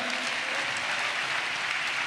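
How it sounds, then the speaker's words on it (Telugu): A church congregation claps hands together in dense, continuous applause, loud and close, with no pauses across the short stretch. "చప్పట్లు కొడుతూ స్తోత్రాలు చెప్దాం"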